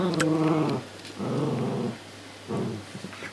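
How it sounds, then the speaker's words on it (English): A puppy growls in three rumbling bursts, close by and fairly loud, with short gaps between each low, throaty snarl. "Currently got a puppy here and a puppy there"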